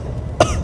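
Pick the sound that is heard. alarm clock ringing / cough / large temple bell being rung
cough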